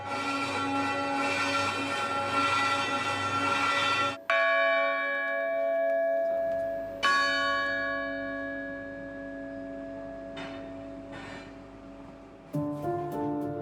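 Church bells ring out loudly with long, shimmering tones that overlap and decay, struck again several times.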